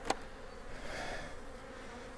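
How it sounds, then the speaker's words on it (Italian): Honeybees buzzing around a honey super freshly emptied of spring flower honey, set back on the hive during beekeeping; a steady, fairly soft swarm drone with one brief closer pass early on. "Adesso le api lo ripuliranno molto molto velocemente"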